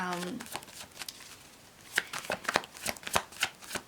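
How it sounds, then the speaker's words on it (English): Tarot cards are shuffled nearby with a series of quick riffling snaps and flicks in an uneven rhythm, fairly quiet with little else around. "I feel like a sense of creativity as I'm shuffling the cards as well."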